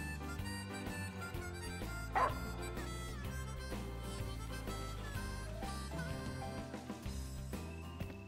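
A dog barking in the video game Final Fantasy XV, one short sharp bark heard under steady game music.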